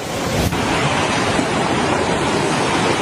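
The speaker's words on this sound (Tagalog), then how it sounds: "pagbukas ng pinto, ang unang sasalubong sa iyo ay ang maugong na hangin at malakas na ulan" Steady, roaring typhoon wind noise with a dense hiss of heavy rain, loud and continuous throughout, with no voices, in Catanduanes, Philippines.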